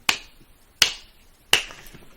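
A group claps together three times, each sharp, crisp clap evenly spaced about three-quarters of a second apart, loud and close against near silence.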